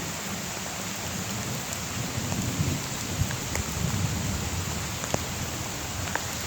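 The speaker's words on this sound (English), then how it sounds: "it's definitely raining" Steady rain patters down in a dense hiss at Little Manatee River State Park, Florida, with occasional louder drops ticking nearby; no voices.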